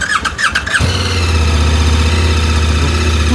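A 2026 KTM 1390 Super Adventure S Evo motorcycle engine fires up after a brief moment of talk, then settles into a loud, steady, close idle rumble.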